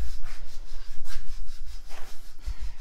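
A square electric pad sander from Harbor Freight runs against a wooden surface near an edge, making a steady close rubbing hiss.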